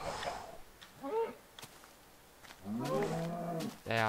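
Cows in the Minecraft video game moo in several drawn-out calls, a short one early, then a long low moo and another starting at the end, clear and close with little else around.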